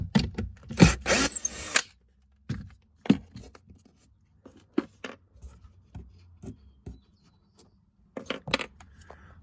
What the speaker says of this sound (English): So I'll just quickly remove all these screws.